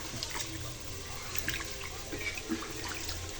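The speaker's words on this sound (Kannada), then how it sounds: "ಅಕ್ಕಿಯನ್ನು ಈ ಥರ ಇದೆಲ್ಲ ಈ ಥರ ಚೆನ್ನಾಗಿ 3 to 4 ಟೈಮ್ಸ್ ವಾಶ್ ಮಾಡಬೇಕು" Rice grains being washed by hand in water for egg biryani, with steady swishing and trickling water close by, soft splashes and faint drips throughout, no voices.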